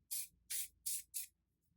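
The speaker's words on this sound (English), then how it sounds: "So I'm just going to spray a little bit of it on, mainly on this top part right here." Hair styling spray misted onto the top of a platinum blonde pixie cut in four short, close hissing bursts with brief pauses between them, no talking.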